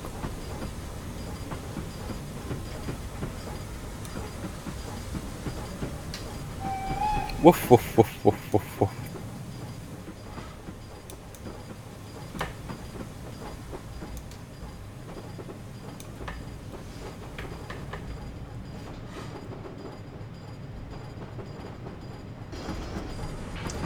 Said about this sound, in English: Train Sim is doing that weird thing where it's like, it sounds like it's in a tunnel all the time again